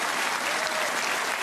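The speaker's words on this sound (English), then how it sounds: "the crowd enjoyed that break from John Higgins" Warm, even applause rolls through the arena at a Scottish Open snooker match between Ronnie O'Sullivan and John Higgins, with steady clapping from the crowd for a break and no voices over it.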